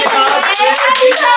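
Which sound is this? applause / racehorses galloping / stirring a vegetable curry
applause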